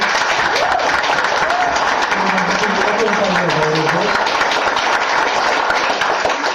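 Dense, sustained applause from an audience for a Kurpie folk ensemble performing a traditional wedding, continuous and fairly loud, with a voice speaking briefly over the clapping midway.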